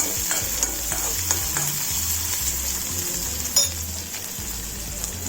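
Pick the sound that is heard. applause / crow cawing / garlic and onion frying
garlic and onion frying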